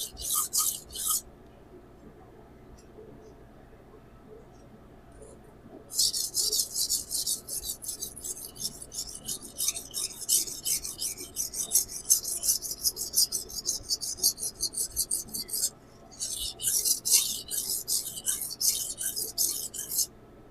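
MagnaCut steel kiritsuke knife drawn across a sharpening stone in partial strokes from tip to heel, giving a steady run of fast, gritty, close scraping strokes. There are brief pauses between runs, and no talking.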